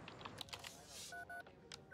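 Telephone dialing tones on an office phone connecting a call: a quick run of short touch-tone beeps, a few paired steady tones, moderately loud with faint background noise.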